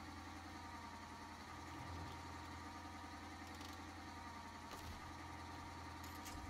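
Tractor engine running steadily during heavy timber hauling, a continuous low rumbling drone with a few brief knocks and bumps, moderately loud with no talking.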